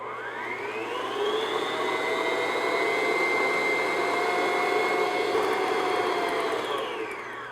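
A stand mixer beats Victoria sponge cake batter until light and fluffy, giving a steady, loud motor whir with a constant pitch that runs without a break and fades slightly at the end.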